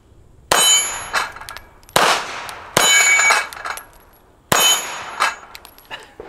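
Four sharp pistol shots at seven yards, each followed by a ringing clang as it strikes the steel plates of a portable dueling tree target. The metallic rings decay over a second or so and are spaced a second or two apart.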